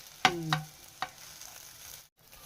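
Bread omelette frying in oil in a home kitchen, a few sharp clatters and taps over a low, steady sizzle, with no voices.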